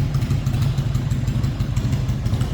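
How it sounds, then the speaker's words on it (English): A 1999 Harley-Davidson Heritage Springer motorcycle engine idles close by, a loud, deep, lumpy potato-potato rumble with steady uneven pulses. "Like I said, beautiful sounding bike."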